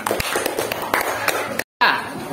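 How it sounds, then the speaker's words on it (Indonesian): A short burst of hand clapping mixed with voices at a sixth-grade class reading of the Indonesian proclamation, a few sharp claps standing out, briefly cut by a moment of silence. "Oke, tepuk tangan."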